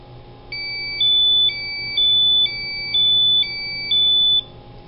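A Sperian Biosystems PhD Lite handheld gas detector runs its start-up self-test, sounding a loud, steady sequence of bright alternating electronic beeps over about four seconds, alone with no talk.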